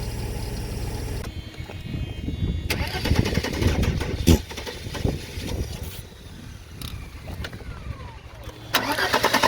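A 1989 Mercedes 190E 2.6L engine with a suspected fault cranks and catches, then runs with uneven revving and idling close by, with a few sharp clicks along the way.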